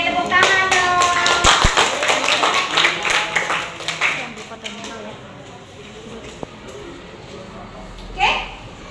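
A class clapping hands on request, a burst of brisk clapping that fades over a few seconds into quiet room noise, with talk in the background.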